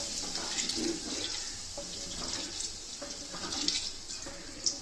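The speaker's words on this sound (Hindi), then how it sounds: "अब मैं ये आहिस्ता आहिस्ता ये आटे वाला पानी इसमें डालूंगी" Flour-and-water mixture poured slowly into a pot of mutton kunna, a steady watery pouring and splashing sound that runs continuously, close and fairly loud, with no talk.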